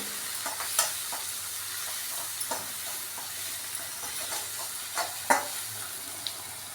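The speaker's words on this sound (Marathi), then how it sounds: "आता हे सगळं एकजीव होईपर्यंत छान परतून घ्यायचे" Spices, tomato, red chilli powder, turmeric and salt sautéing together in a pan for vangyache bharit, a steady hissing sizzle with occasional spatula scrapes and taps, close and moderate.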